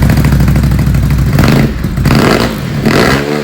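A Ducati SuperSport S fitted with an MIVV exhaust revs loud and close, its deep motorcycle engine note swelling and dropping through a few short blips.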